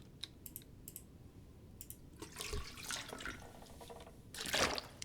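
Grabbing water in The Long Dark, a survival game: faint dripping and light clicks at first, then a louder splashing, running-water burst midway and another at the end, with no talk.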